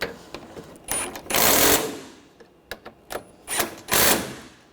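Bursts of a power tool tightening bolts on the front bumper of a 2013-2019 Ford Escape, several short whirring runs with pauses between, close and fairly loud.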